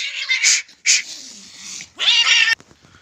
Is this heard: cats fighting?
yes